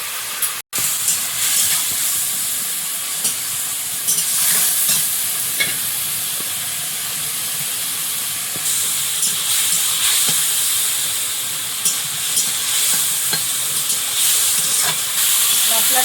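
Hot oil sizzles loudly and continuously in a pan of fried potatoes as salt, turmeric, cumin and coriander powders go in for a fish curry, a dense close hiss lasting throughout with occasional stirring clicks.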